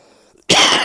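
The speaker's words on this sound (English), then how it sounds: "That's why I'm coughing." A single harsh cough bursts out after a near-silent moment, loud and close.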